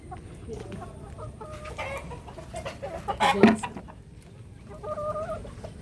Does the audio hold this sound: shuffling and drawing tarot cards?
no